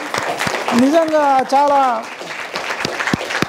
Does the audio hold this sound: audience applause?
yes